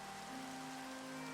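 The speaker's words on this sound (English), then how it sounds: "Apparently it's raining outside." Rain falls outside in the video game OrgelCraft as a soft, even, faint hiss of many drops with a faint steady tone beneath it and no voices.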